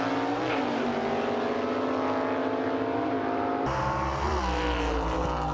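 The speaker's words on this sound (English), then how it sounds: "just listen right here at this finish line shot at the sound of that engine" A small block engine in a gasser race car screams past the finish line at a drag event in Clay City, Kentucky, a loud rising roar that shifts pitch abruptly as the car passes close by.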